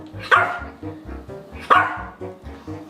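Dogs bark in quick, repeated bursts close by, a rhythmic run of sharp barks with two louder yappy peaks, and no one speaking over them.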